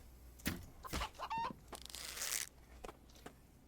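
Chickens clucking in the video game The Infected, a few short clucks and squawks with a brief rising call, close and fairly loud over faint background noise, without speech.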